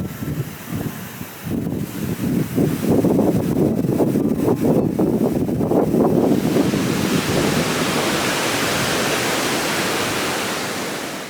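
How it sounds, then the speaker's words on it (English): Water of the Rotbach waterfall crashes down an Alpine mountainside near Königssee, a loud, continuous roar with gusty wind buffeting the microphone and rising to a steady hiss. "the sound of the water crashing down the mountain"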